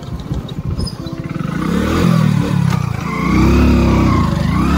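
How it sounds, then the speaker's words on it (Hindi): A motorcycle strains in first gear up a steep, rough off-road track in Rajouri, its engine clattering at first, then revving up into a loud, rising and wavering whine that holds close and strong. "फर्स्ट गेट में चढ़ना मुश्किल हो गई बाइक तो।"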